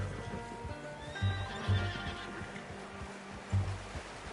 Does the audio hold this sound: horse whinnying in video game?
yes